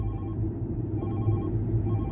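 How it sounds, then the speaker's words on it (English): A telephone rings inside a car while driving on the Autobahn, a steady tonal ring over constant low road and engine rumble, fairly faint and with no talking. "I'm gonna have to deny this phone call."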